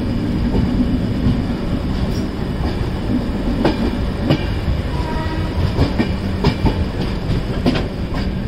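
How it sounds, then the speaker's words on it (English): A train rolls along the tracks in Bhuj, Kutch, India, with steady rumbling and repeated clickety-clack thumps from the wheels, close by and loud, with no talking. "There's so many other trains here."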